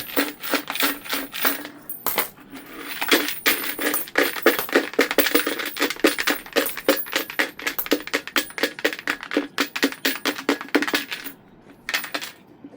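Coins pour and clatter out of piggy banks in a long run of sharp metallic clinks and jingles, dense and irregular, close and loud with brief pauses.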